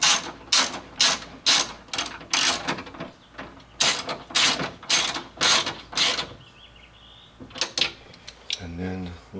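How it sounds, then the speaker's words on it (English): A ratchet tightens the bolts that hold the window to the regulator inside the door of a 2006 Scion xB, in close, loud bursts of rapid clicking with short pauses between them. A softer mechanical whir follows near the end. "So we're just bolting in the window to the register."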